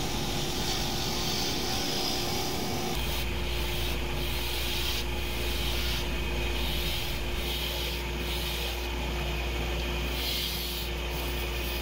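A wood lathe spinning at about 3,000 rpm while a spindle gouge cuts the work, making a steady, loud scraping rush over a constant motor whine.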